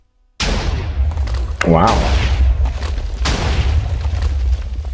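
A TNT cannon fires and explodes in the Minecraft video game, with a deep booming blast followed by rumbling explosions and a sharp second burst, while a person briefly exclaims.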